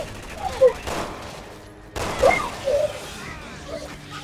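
Gunshots in the Resident Evil 6 video game, a few loud bursts of gunfire separated by a brief lull, with mixed game noise around them.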